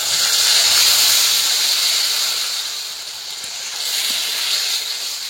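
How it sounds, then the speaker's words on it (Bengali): Cumin, coriander and turmeric powder with tomato purée sizzle steadily while frying in a pan for Bengali bottle gourd kofta curry, a continuous close hiss swelling and easing slightly, with no talking. "1 চামচ জিরে গুঁড়ো, 1 চামচ ধনে গুঁড়ো, 1/2 চামচ হলুদ গুঁড়ো, টমেটো পিউরিটা দিয়ে ভালোভাবে কষিয়ে নেব"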